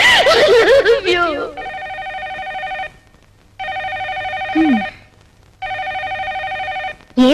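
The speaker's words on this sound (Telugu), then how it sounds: "ఏమిటండి ఫోన్ మోగుతూనే ఉంది." A telephone bell rings in bursts of about a second and a half, three rings separated by short gaps, loud and close, with a voice speaking over the opening and briefly between rings.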